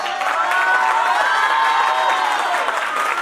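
Applause and cheering from a crowd at a women's drive launch event, a dense, steady wash of clapping and shouts that stays loud and unbroken.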